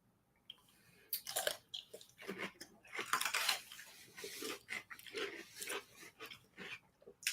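Crunchy garlic dill pickles being chewed close up, a series of wet, crisp bites and munching crunches in an irregular rhythm, fairly quiet with brief pauses between bites.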